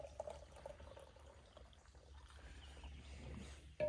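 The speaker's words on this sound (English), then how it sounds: "We're gonna pour us one more cup of coffee now." Hot coffee poured from an insulated Yeti bottle into a cup outdoors, a faint, steady liquid pour heard close but quietly against low background hum.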